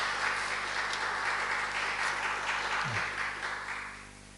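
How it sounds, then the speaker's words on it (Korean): A church congregation at a Sunday worship service applauds to welcome a visitor, a dense, steady wash of clapping with a soft sustained keyboard tone underneath that gradually fades toward the end. "박수하시겠습니다."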